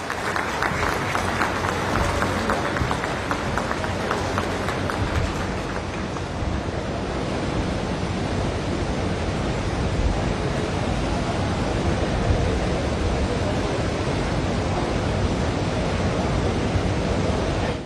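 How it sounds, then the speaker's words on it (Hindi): A large crowd at the Kushinagar International Airport inauguration rises in loud, sustained standing applause to welcome the Prime Minister, a dense wash of clapping and cheering that holds steady throughout. "एक बार जोरदार तालियों के साथ खड़े होकर अपने स्थान पर अभिनंदन वंदन स्वागत माननीय प्रधानमंत्री महोदय जी का"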